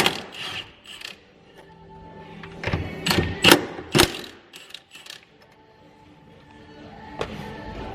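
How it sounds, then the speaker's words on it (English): Center bolts being removed from the rubber transmission mount of a MK4 Toyota Supra during a T56 Magnum F swap, with bursts of ratcheting and sharp metallic clicks and clanks in a garage. "we're taking off the center bolts right now for the actual rubber mount"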